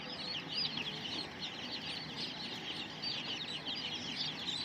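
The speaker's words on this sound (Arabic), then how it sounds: "هنا في حد بيلم الفراخ بتتحجز في جزء معين وحد بيلمها" Young chicks on a poultry farm peep and cluck steadily as they are gathered for vaccination, a dense, busy chorus of high chirps that fills the whole stretch at low volume.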